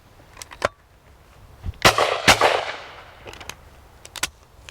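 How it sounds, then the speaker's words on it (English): A Zenith inertia shotgun fires 24 gram cartridges outdoors: two loud, sharp shots close together with brief ringing decay, set among smaller scattered clicks and knocks. "let's chuck a couple of shots through the 24s, see if it changes over quickly"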